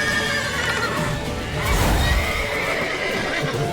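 A horse in The Witcher 3: Wild Hunt gives a short whinny over a busy, noisy game scene, with clopping hooves and background action mixed in.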